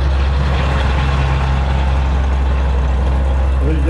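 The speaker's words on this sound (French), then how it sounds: "Arrive un très beau véhicule britannique, un AEC Matador, qui était le camion lourd de l'armée britannique" An AEC Matador, the British army's heavy gun-towing truck, rolls by in a parade with a deep, steady diesel rumble close at hand. The engine note holds even throughout, and no voices are heard.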